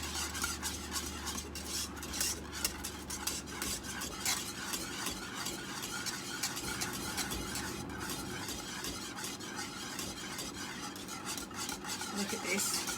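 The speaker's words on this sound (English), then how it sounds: "once it starts to boil, you want to continue whisking for a further 2 minutes or so" Whisk scraping through vanilla custard thickening in a pot, busy continuous stirring and metallic rasping against the pan, close and steady, with no talking.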